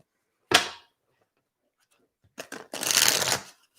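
A quick riffle of tarot cards near the start, then a pause, followed by a longer burst of shuffling and snapping cards, close and fairly loud.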